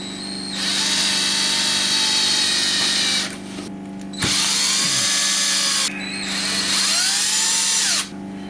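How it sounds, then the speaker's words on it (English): A power tool driving bolts on a Yamaha Blaster, three loud sustained whirring bursts with pitch sweeps as each bolt seats, separated by short pauses, close up and without talk. "torque down the bolts, or at least get them started."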